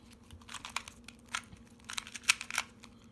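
A 2 by 2 Rubik's cube is shuffled in quick, irregular plastic clicks and clacks, close up and fairly quiet, with no talking.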